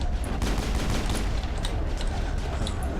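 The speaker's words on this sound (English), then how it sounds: "Gunfire, I mean." Rapid gunfire crackles continuously through a firefight in the Mass Effect video game, dense overlapping shots with no gaps across the whole stretch.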